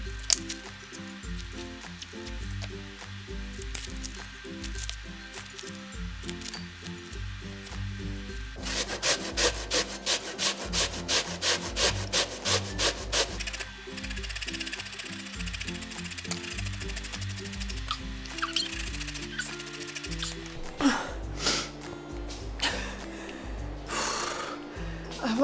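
Onions are grated by hand for a Hungarian pörkölt, giving steady close rasping strokes that speed into a fast, even scraping rhythm midway before slowing again.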